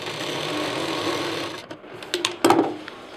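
Sewing machine stitching piping on a backpack, running steadily at first, then pausing and giving several short clattering bursts close by.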